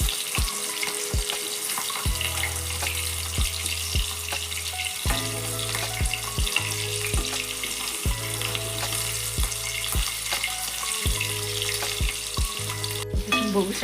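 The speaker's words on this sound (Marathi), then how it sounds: "तुम्ही साधारण सगळे मी टाकून घेते तेलामध्ये. साधारण अशा पद्धतीने याला हलवून घ्यायचं." Spiny gourd (kantola) pieces fry in hot oil while being stirred, a loud, dense sizzle with repeated scraping strokes and a steady droning tone running underneath.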